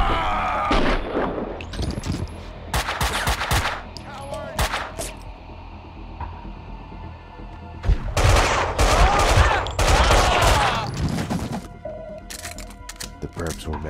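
Gunfire in Max Payne 2, with loud cracking shots and rapid bursts grouped in two main clusters, plus game voices speaking between the volleys.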